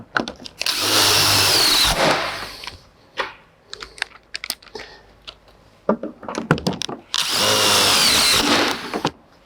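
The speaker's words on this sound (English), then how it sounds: "you'd want to put in all the fasteners on your entire beam attachment bracket" Power drill driving fasteners through a beam attachment bracket, in two loud sustained whirring bursts at the start and near the end, with clicks and knocks of handling the bracket and screws between them.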